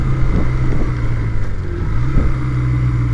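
An old Honda 125 CM Custom motorcycle is being ridden, its engine giving a steady, close droning hum with slight rises in revs and some wind buffeting on the microphone.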